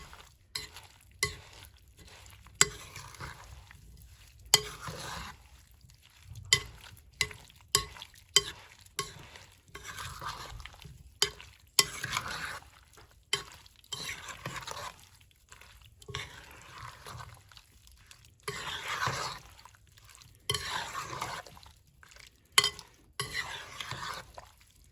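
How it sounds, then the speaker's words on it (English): A spoon or spatula stirs and folds mixed berries in a bowl to coat them for a pie filling, producing soft wet squelches and repeated sharp clicks against the bowl, close and intermittent with quiet gaps. "now what I want to do is mix everything together to coat the berries"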